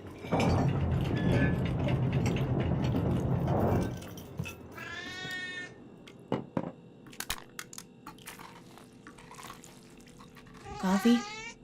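A cat in the video game The Operator gives two drawn-out meows, one midway and one near the end, after a few seconds of crunchy, rustling eating noise. Scattered clicks sit between the meows.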